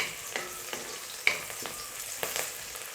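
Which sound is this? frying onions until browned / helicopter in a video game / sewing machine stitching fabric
frying onions until browned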